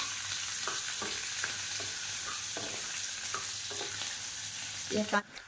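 Onion frying in hot oil with crispy peanuts, mustard seeds and curry leaves, a steady close sizzle with several scraping stirs of a spoon, ending in a louder clatter.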